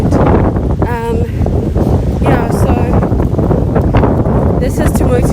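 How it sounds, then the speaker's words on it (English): Strong wind buffets the microphone during an outdoor walk, a loud continuous rumbling roar with a voice talking over it. "There's so much wind."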